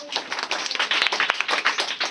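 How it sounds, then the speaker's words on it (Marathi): A group of schoolchildren claps hands together in a classroom, a quick ragged run of many close claps with no speech over it. "वा वा छान अभिनंदन टाळ्या वाजवा"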